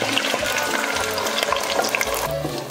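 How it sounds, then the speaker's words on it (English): Steady, close sizzling and crackling of beans frying in hot lard, continuous throughout with small pops and a faint stirring scrape. "time to start frying these beans, or re-frying these beans"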